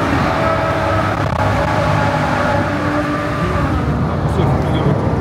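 A Ferrari FF V12 engine droning loudly and steadily as it revs, a sustained close roar with no break.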